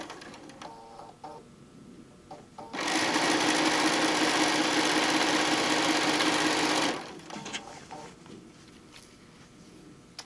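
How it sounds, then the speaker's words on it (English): Sewing machine stitching around a pillow corner with piping, a loud, even mechanical whir lasting about four seconds, with quieter handling sounds and some speech before and after. "And we will then stitch around our corner."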